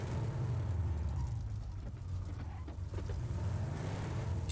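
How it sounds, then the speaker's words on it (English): Several vehicles pulling up in the battle royale game PUBG, a continuous low engine rumble with rising and falling drone, moderately loud and steady throughout. "The cars are making an awful lot of noise."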